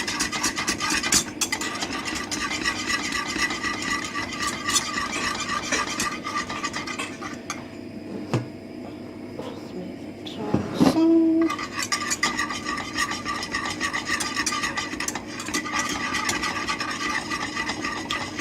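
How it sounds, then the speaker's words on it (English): Gravy at a rolling simmer on a gas hob, being stirred with a utensil that scrapes and clinks against the pan, repeated rhythmic strokes over a low bubbling hiss, with a brief quieter stretch and a sharper knock midway. "That's on a sort of rolling simmer now"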